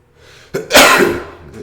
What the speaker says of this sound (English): I get the sneezes.